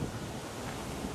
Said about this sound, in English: gust of wind right there.